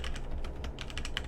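Typing on a HyperX Alloy Origins Core keyboard with tactile Cherry MX Brown switches, a quick irregular run of close, crisp keystroke clicks with no talking.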